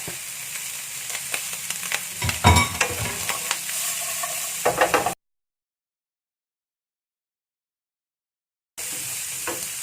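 Green beans with dried shrimp stir-fried in a pan, crackling sizzle and brisk scraping stirs up close, cut off by a few seconds of silence before the sizzle resumes.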